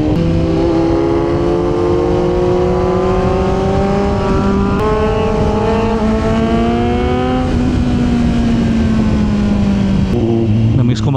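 Kawasaki Z900 motorcycle ridden at night, its engine droning steadily and loudly up close, pitch rising through the gears in smooth climbs before easing off near the end, with some talk over it.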